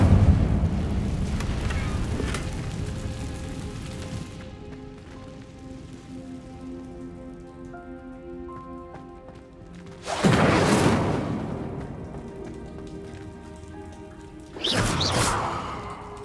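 Fire spells are cast in the video game Hogwarts Legacy, producing three loud roaring whooshes: a long opening burst, then two sharp flaring blasts separated by quieter ambient tones.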